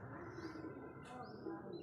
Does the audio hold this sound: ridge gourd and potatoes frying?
no